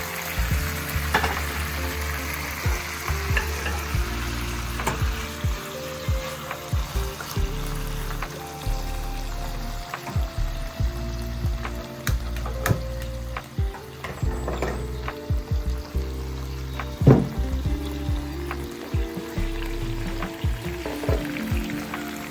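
Pre-boiled squid stir-fried in a kadai with curry leaves for a spicy chilli roast gives a loud, steady sizzle, with frequent scraping and clinking of the spatula against the pan throughout and no voices.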